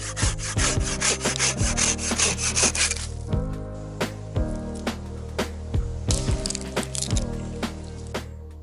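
A saw cuts through wood for firewood outdoors, strong rasping strokes at first, then slower, scattered scrapes and knocks with pauses between them, close and clear, with no talking.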